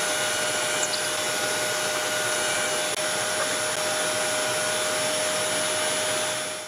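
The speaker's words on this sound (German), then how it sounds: "bohren wir mal munter ein paar Löschelchen." A steady, loud motorized whine runs without pause, like a power drill boring into material, holding a constant pitch from start to finish.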